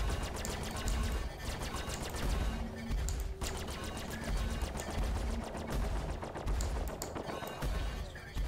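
Spaceship guns fire in rapid, relentless bursts during a strafing dogfight in the Star Citizen Alpha 2.5 game, loud and dense over a constant engine drone with little pause.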